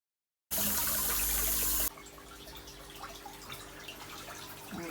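Water runs into a koi fry grow-on tank, a loud gushing pour for about a second and a half that drops to a steadier trickling flow with faint drips, close by.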